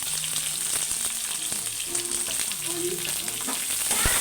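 Onions and tomatoes sautéing in oil in a pan for an oily eggplant dish, a continuous close frying hiss with intermittent clinks and scrapes of stirring, no voices.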